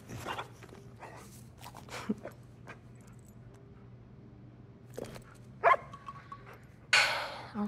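A dog in Uncharted 4 barks and whimpers in short, scattered bursts over a low steady hum, with quiet footsteps and shuffling between the barks and a louder burst near the end.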